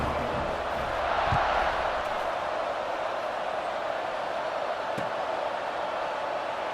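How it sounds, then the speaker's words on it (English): American football stadium crowd roaring steadily at kickoff, a dense continuous wash of cheering that swells slightly around the second mark and holds loud throughout, with no clear speech on top. "They're set to kick it off, and this crowd now ready to get behind them."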